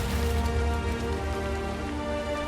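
Steady, dense rain of blood pours down in the video game Diablo IV. It makes a loud, continuous hiss and patter throughout, with no voices over it.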